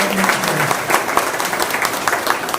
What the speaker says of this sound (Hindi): जोरदार ताली बजाए आप सबके लक्ष्मी नारायण।